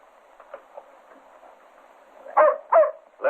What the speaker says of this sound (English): Who's Bill? The dog